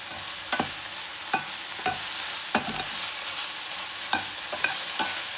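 Food being sautéed with salt in a frying pan in a home kitchen, a steady sizzle broken by sharp scraping stirs every half second or so, close and alone with no talking.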